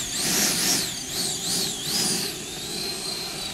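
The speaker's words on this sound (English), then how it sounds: "I will just taxi here so we can see the wheels" An E-flite Viper 90mm electric ducted-fan model jet taxis on the ground, its fan giving a loud, high whine that rises and falls in pitch several times before settling into a steady hum.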